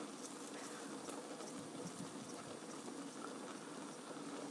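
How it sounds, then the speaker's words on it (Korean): A pot of cream sauce with potatoes simmers and bubbles steadily, giving a soft continuous fizzing hiss with faint popping throughout, close and fairly quiet with no talk. "이렇게 보글보글 끓기 시작했습니다."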